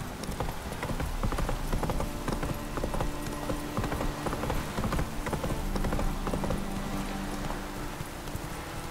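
Horse hooves clip-clop steadily at a gallop in The Witcher 3, a continuous rhythmic pounding with a low background score running underneath throughout.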